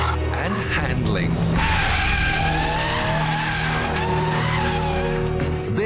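A BMW M3 drives hard, its tires squealing and skidding in a long, loud slide over a roaring engine. The screech holds steady and close for several seconds.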